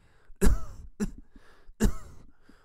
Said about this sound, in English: She's coughing like crazy.